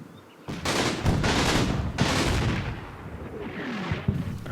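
Mortar team firing in a WWII combat video game, a run of loud booming blasts and gunfire bursts overlapping over several seconds, up close and dense.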